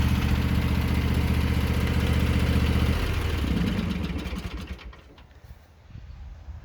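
A new riding lawn mower engine runs steadily up close, loud and even for about three seconds, then its tone drops and fades as the mower eases off, leaving a quieter rumble to the end.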